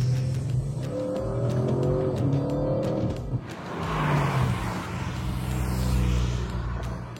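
An Audi RS6 with a 4-litre V8 accelerating hard, a deep engine rumble climbing through the revs with a gear change partway through, loud and close with no talking.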